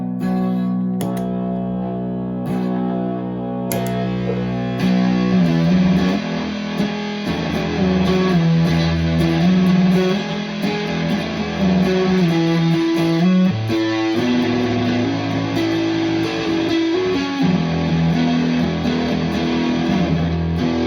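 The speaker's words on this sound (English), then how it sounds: "I really wanted to highlight the fuzz" Electric guitar driven through a fuzz pedal on a pedalboard, with an Ecto effect layered on top, plays sustained, saturated chords and melodic lines with a thick, distorted tone and lingering echo, steady and loud throughout without any voices.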